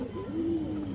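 A pigeon gives one soft, low coo that rises and falls over about half a second, heard close by against faint background hiss.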